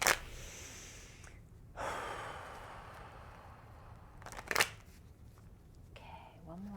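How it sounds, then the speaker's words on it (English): Tarot cards are shuffled close by in several short, papery riffling bursts separated by quieter pauses, with soft breathing in between. "we're going to do one more shuffle."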